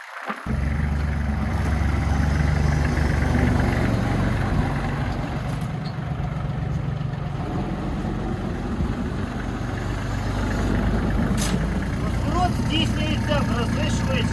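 A Kubota GL 320 Japanese tractor engine runs at a steady idle, a continuous low rumble that stays fairly loud and even throughout, with some faint voices mixed into the background.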